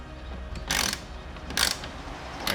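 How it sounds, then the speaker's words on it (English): A ratchet tightening a bolt on a 2022 Subaru BRZ gives three short bursts of close clicking separated by brief pauses, over a low background hum, with no talk. "And then we're gonna tighten this bolt."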